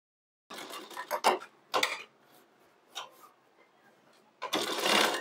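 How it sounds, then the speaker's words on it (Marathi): A sewing machine stitches an umbrella-style sleeve in several short bursts separated by pauses, then closes with a longer continuous run, heard close and alone. "आता आपण याला शिलाई मारून घेऊया."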